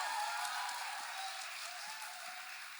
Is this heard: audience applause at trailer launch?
yes